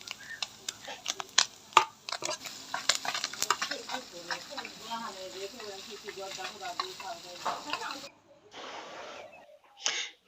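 Puti fish frying in a pan, a steady close crackle and sizzle with sharp spatters and scraping stir strokes, broken by a short pause and a final burst near the end.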